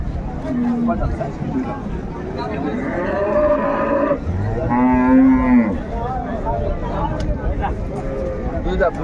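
Cows and calves of an improved dairy breed mooing at Raniganj cattle market in Dinajpur, with several long, loud moos close by over steady crowd chatter and people talking.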